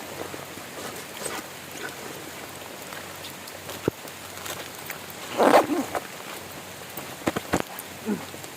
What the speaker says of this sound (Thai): ฝนลง